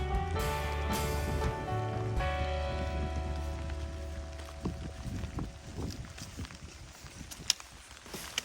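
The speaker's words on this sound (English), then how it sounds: "We've got about an inch of rain, which I think how much we were supposed to get." Steady rain falls on the forest along the Appalachian Trail, a soft continuous patter with scattered nearby drips and faint rustling and possible footsteps. No one speaks.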